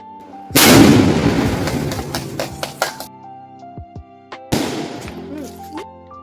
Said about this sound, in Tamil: பட்டாசெல்லாம் சூப்பராக போட்டுட்ருக்கோங்க.